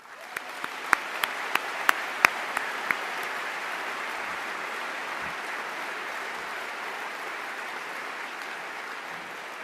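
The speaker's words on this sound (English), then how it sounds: "I would like to thank our 2 speakers and our moderator with another round of applause." Audience applause closing an evening event with two speakers and a moderator, a dense, sustained wash of clapping, with a few sharp individual claps standing out at the start before it settles into a steady roar.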